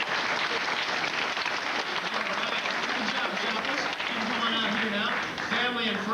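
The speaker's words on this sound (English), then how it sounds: "Give them a nice big round of applause." A theme-park crowd applauds at the close of a 1993 earthquake special effects show at Universal Studios in Orlando, a loud, continuous wash of clapping with a voice speaking over it near the end.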